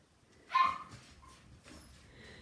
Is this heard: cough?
no